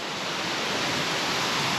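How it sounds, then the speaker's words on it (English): Devil's Hills Falls on Cape Breton pours in a dense, roaring wash of white-noise water, loud, close and unbroken the whole time, with no voices. "look at that. Devil's Hills Falls"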